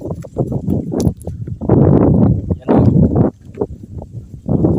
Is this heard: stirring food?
no